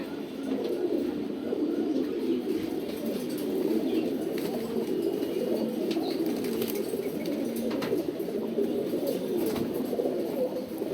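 Racing pigeons on vaccination day coo and murmur in a steady, continuous flock sound nearby, with faint flutters and small chirps scattered throughout.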